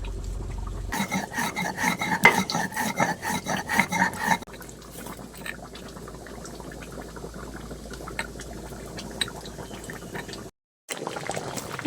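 Garam masala spices are ground by hand on a stone, giving a rhythmic close rasping and rubbing that gives way to softer scraping and a faint simmering bubble behind it.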